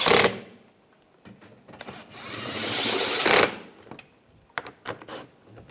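A power tool tightens front lower control arm bolts on a 2013-2016 Dodge Dart, running in one sustained loud whirring burst after a few clanks and followed by brief mechanical taps.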